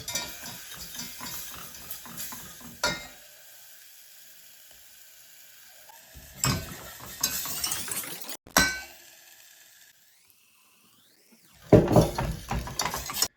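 Spoon clinking against a pan while coconut milk is stirred into a gluten-free fish pie sauce over low heat, with scattered clinks and scraping bursts separated by quiet gaps.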